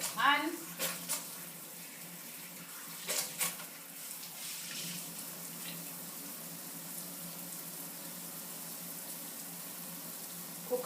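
Hands are washed under a running kitchen tap, with a few louder splashes at the start, then a quiet, steady flow of water and faint voices.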